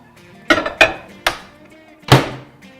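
A bowl holding lemon and water is set down inside a microwave, giving a few sharp clinks and knocks of glass or ceramic against the turntable, spaced irregularly and close by, with no talk.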